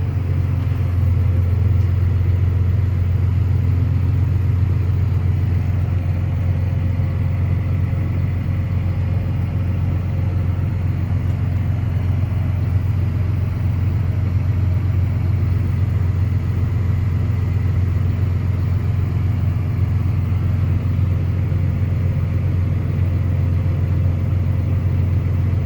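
A tractor engine runs steadily as a planter is folded up after sowing sweet corn, a constant, close, low rumble with no break or change in pace.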